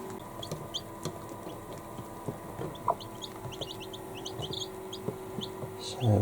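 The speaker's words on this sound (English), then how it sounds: "the adoptive mother hen, 14 chicks" A broody adoptive mother hen clucks softly and intermittently inside a brooder box holding 14 chicks, with faint high chirps scattered throughout and a louder rustle near the end.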